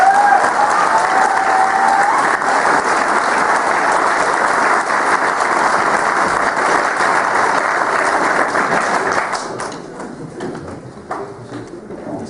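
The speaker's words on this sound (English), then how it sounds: "round of applause for our teachers." A large crowd applauds teachers at a school farewell, a loud sustained roar of clapping lasting around nine seconds before tapering off into lighter, scattered claps.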